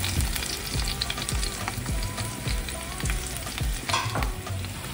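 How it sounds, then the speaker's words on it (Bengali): Five-spice seeds, dried chilies and garlic sizzle and crackle steadily in hot mustard oil while being stirred, a dense continuous frying hiss with occasional spatters and scraping, close up with no voices. "একটু ভেজে ভেজে নিচ্ছি।"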